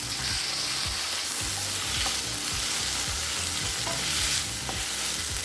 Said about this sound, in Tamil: இப்போ தக்காளி நல்லா வதங்கிடுச்சுங்க.